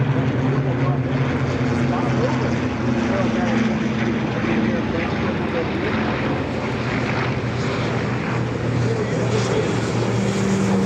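Warbird aircraft, including a B-25, passing overhead at an airshow, a steady droning engine roar that fills the whole stretch with strong low tones, while an announcer talks over it.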